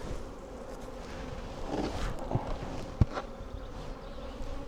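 Bees hum around an open, heavy honey hive, a steady low buzzing close by with a few soft knocks and one sharp tap partway through.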